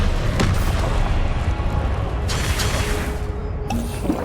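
In Hogwarts Legacy, Confringo explosive spells blast in deep booming bursts over a continuous rumbling combat din. A few sharper hits stand out near the start and the end.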